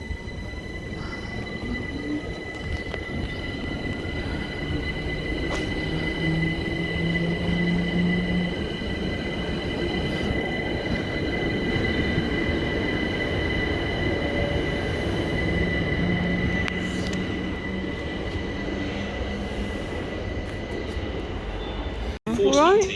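Trains pass through West Croydon station with a loud, sustained rumble of wheels on rails, high-pitched squeals and tonal whines, ending with a sharp clunk.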